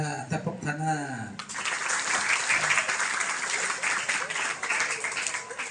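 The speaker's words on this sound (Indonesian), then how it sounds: "Tepuk tangan." A school audience of students breaks into sustained applause after a short spoken prompt, the clapping dense and steady for several seconds.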